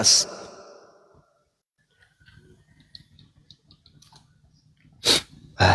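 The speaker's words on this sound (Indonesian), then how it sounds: "Sorry ya, saya bersin-bersin." A man sneezes loudly at the start and twice more near the end, with soft background noise and muffled sounds in between during an indoor conversation.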